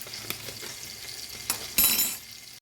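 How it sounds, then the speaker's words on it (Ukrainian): Potatoes frying with a spoonful of potato seasoning get stirred in a pan, a brief steady sizzle with light scraping and one louder spatter-like burst near the end. "І гарненько все перемішаю"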